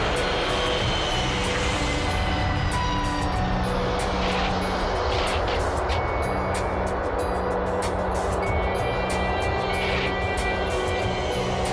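Airliner landing on a runway, a loud steady roar of engines and rolling noise filling the whole stretch without pause, close and continuous.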